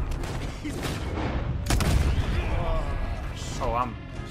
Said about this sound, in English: Oh, I'm shooting.